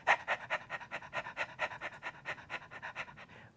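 Rapid, light panting breaths from a person mimicking a little dog in a choir class warm-up, around sixteen quick even huffs, close-up and without talking.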